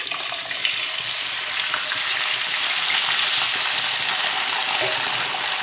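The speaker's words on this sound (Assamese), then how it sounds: "মই ইয়াত আলু আৰু চজিনাখিনি অলপ ফ্ৰাই কৰি ল'ম।" Potatoes and drumsticks fry in hot oil in a wok, a dense, even hiss of sizzling that holds steady throughout with a few small crackles and no talk.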